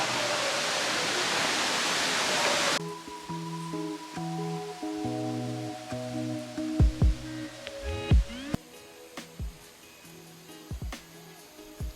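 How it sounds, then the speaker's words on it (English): A waterfall inside Smoo Cave on Scotland's north coast gives a loud, dense, steady roar for the first few seconds, then cuts off abruptly to a much quieter scene of faint tonal sounds and soft knocks. "You go in a small boat to get up close and personal with the waterfall"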